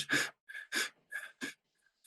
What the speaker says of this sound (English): It's taking short, deep breaths. It's almost like panting.